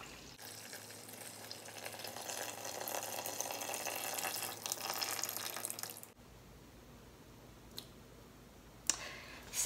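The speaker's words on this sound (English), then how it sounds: "And I'm going to add 640 grams of water. This is just room temperature." Room temperature water pours steadily into a mixing bowl for bread dough, a soft continuous splashing that stops abruptly, followed by quiet with a few faint clicks.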